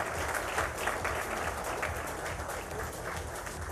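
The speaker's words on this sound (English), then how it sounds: "Let's give them a big round of applause" Audience applause for award winners at the close of a college awards ceremony at an education conclave: dense, steady clapping from a sizable crowd, sustained at even loudness for the full stretch with no voices over it.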